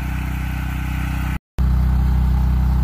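A portable generator runs inside a homemade quiet box, a steady low engine hum with a constant droning tone. A brief cut to silence comes midway, then the running resumes slightly louder.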